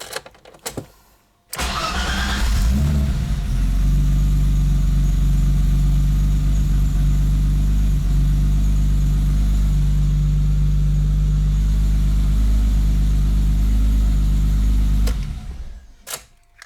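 BMW E30 engine cranking and catching after a brief starter whir, then a loud, steady low idle close by for over ten seconds before shutting off, no talk.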